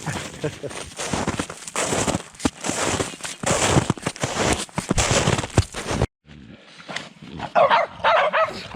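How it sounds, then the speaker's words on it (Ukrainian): Several dogs bark in rapid, overlapping bursts at close range, loud and chaotic, then a short pause before more barking further off. "А собакени."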